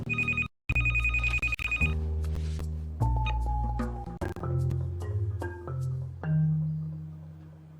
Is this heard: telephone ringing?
yes